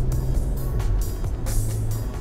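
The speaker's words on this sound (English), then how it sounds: "I think the car sounds really good. It's got the optional sport exhaust system, those two fat pipes in the back." A 2020 Porsche 911 992 Carrera with the optional sport exhaust hums along at moderate speed, a steady low engine note with brief swells, heard from inside the car without talking.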